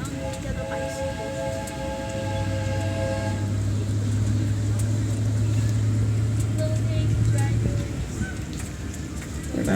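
Train ride through a village business district, with a steady rumbling rattle of the moving cars and a sustained low drone throughout, a narrator's voice faint over a loudspeaker.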